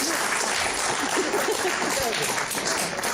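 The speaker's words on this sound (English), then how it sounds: "Journalists aren't used to applause." Applause from a crowd, steady clapping throughout with some voices mixed in underneath.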